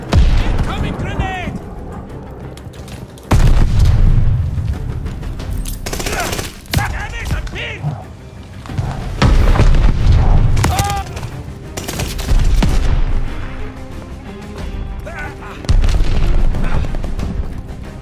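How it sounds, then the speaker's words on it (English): Grenade blasts and heavy gunfire in Call of Duty Vanguard multiplayer, with repeated loud booming explosions and bursts of rapid shots recurring throughout, punctuated by in-game voice callouts. "Incoming grenade!"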